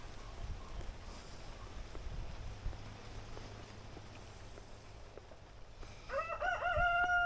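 Backyard chickens with a rooster that crows loudly and close by near the end, its harmonic call rising over a low, steady outdoor rumble beside a banana plant.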